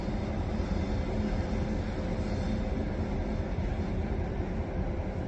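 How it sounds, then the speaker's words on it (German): A Nightjet overnight train pulls into Linz Hauptbahnhof, a steady, loud rumble of rolling railcars and wheels filling the whole stretch without letup. "Night-Jet 468 nach Paris Hotel fährt ein."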